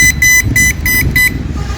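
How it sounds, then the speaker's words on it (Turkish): Four loud electronic honks from the small horn of an Onvo OV-012 X Plus electric scooter, short evenly spaced beeps in quick succession, fairly close. "Yani kornamız bile var bakın."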